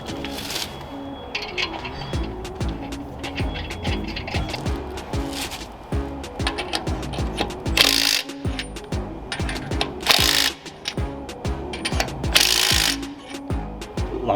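Lug nuts are worked onto the wheel of a Mk5 Toyota Supra after a stud conversion, with close ratcheting clicks, metallic clatter and brief bursts from a power tool repeating throughout.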